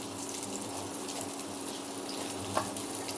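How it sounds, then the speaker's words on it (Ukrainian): Eggplant slices frying in a pan, a steady soft sizzle and crackle of oil, close and fairly quiet throughout with one small pop, no voices. "поки баклажанчики підсмажуються наші"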